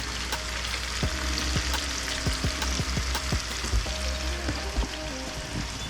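Mushrooms with greens frying in a pan, a continuous soft sizzle with scattered clicks and scrapes of stirring close by.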